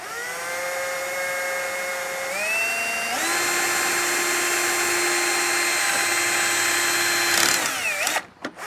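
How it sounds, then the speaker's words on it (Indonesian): Power drill boring a hole through the middle of a Canon MP287 printer cartridge, a steady close whine that climbs in pitch as the motor speeds up, then winds down and stops at the end. "Di pas tengah-tengah ini kita lubangin pakai bor ya."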